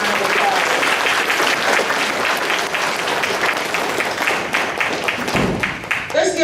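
Audience applause at a middle school honors night banquet, a loud, sustained burst of many hands clapping in a room that tapers slightly as a voice begins speaking at the end.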